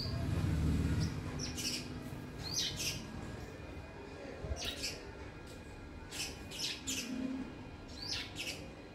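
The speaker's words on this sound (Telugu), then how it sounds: "చూడండి చిట్టి పిట్ట, అవి ఊరపిచ్చుకలు అవి వేరే" Several small birds, house sparrows among them, chirp outdoors in the morning with repeated short high tweets scattered across the scene over a steady low background rumble.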